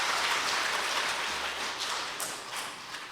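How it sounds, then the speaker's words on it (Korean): A church congregation applauds a visiting air force academy cadet during a Korean Methodist service, a dense, sustained round of clapping that fills the room and slowly tapers off. "박수 한번 치겠습니다"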